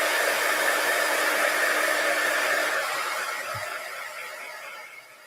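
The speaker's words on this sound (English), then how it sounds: "I'm going to heat set this because the Simon Hurley inks" A heat tool blows steadily to heat-set Simon Hurley inks, a loud continuous airy roar that holds evenly and then slowly fades toward the end.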